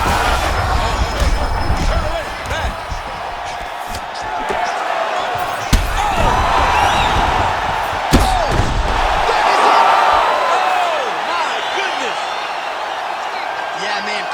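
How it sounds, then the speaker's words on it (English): Arena crowd in the UFC 5 fighting video game roaring and cheering as a fight ends, a steady loud crowd bed punctuated by a few sharp impact thuds. "Crowd loving it."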